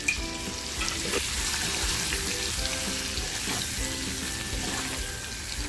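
Eggs frying in a pan with turmeric, red masala and salt, giving a steady, close, dense sizzle that crackles continuously throughout with no talking.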